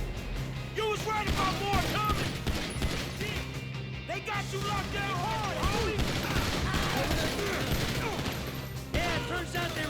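Gunfire in the video game GTA 5, with repeated sharp shots crackling through a busy game soundscape while players talk excitedly over it.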